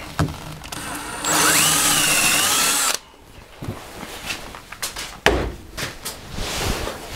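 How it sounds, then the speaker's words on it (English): A power drill whines loudly and steadily for a couple of seconds, boring a central hole in a small red cedar bowl, then stops, followed by quieter knocks and handling noises. "drill a central hole here"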